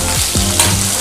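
Chopped onions hit hot oil in a pan while making paneer dosa, giving a close, steady sizzle with a few stirring scrapes over one short second, no voices.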